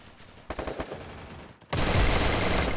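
Rapid bursts of gunfire crackle in quick succession, then a dense, continuous roar of automatic fire swells and holds loudly.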